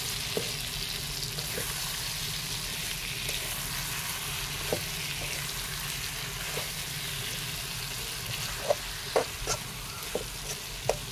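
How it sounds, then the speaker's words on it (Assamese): Half-fried fish pieces coated in spice masala are stirred in a pan, with a continuous oily sizzle and occasional soft scraping clicks from the spatula, no talking. "এতিয়া ধুনীয়াকৈ লৰাই ল'ম, মছলাখিনি মাছৰ গাটো ধুনীয়াকৈ লগাকৈ।"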